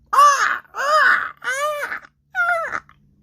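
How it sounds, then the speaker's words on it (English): Four loud, harsh bird squawks in quick succession, each a raspy screech with short gaps between, close by and with no other sound around them. "who screeched and squawked and dropped Anansi"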